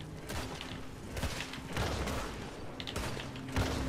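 Gunfire in Red Dead Redemption 2 comes as scattered sharp bangs and volleys. It sits among a busy, continuous mix of game noise at moderate loudness.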